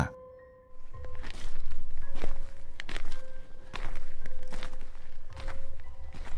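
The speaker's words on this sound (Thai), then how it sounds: "เพราะเสียงฝีเท้า ของพวกเขาเหล่านั้น ก็ยังเดินตามผมมา" Footsteps walk steadily behind someone, a regular series of fairly loud, close thuds with no voices over them.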